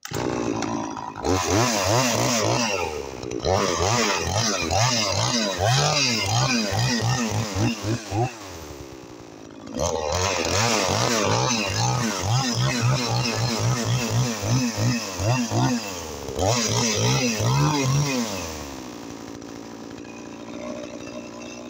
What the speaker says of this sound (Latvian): Jā, šitas ir ļoti labs zāģis.